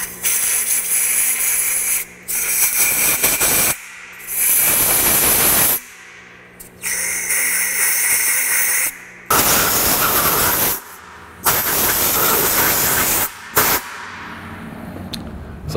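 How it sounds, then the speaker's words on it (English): Compressed air blasts debris out of differential bolt holes in short loud hissing bursts, each lasting one to two seconds, separated by brief quiet gaps, repeated about six times close by. "I'm also gonna clean these bolt holes out. I'm gonna point this down and away so the stuff doesn't come blowing out."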